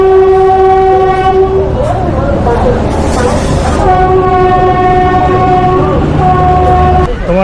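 Passenger train pulling out of Asansol, its loud horn sounding in long sustained blasts near the start and again later, over a steady rumble of moving carriages close by.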